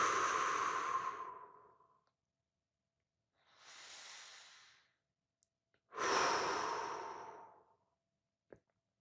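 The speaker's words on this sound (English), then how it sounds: "let's start by taking a few deep breaths." Slow, deep breaths during a guided meditation, close and quiet: a long exhale, then a softer inhale, then another full exhale, with silent pauses between them.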